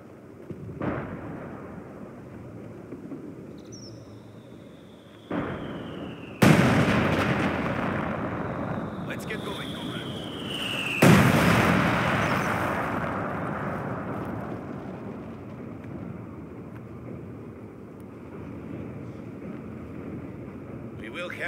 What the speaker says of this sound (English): Artillery fire! Take cover!